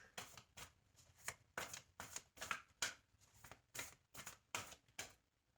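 A deck of oracle cards is shuffled by hand in about a dozen quick, rhythmic riffling strokes, soft and close with no talk.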